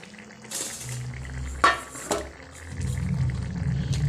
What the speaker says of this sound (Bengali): এই ঢাকা বন্ধ করে এবার ফুটতে দিলাম